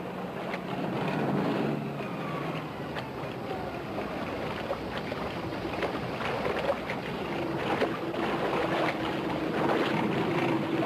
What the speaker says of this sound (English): Great way to sneak in with a huge boat.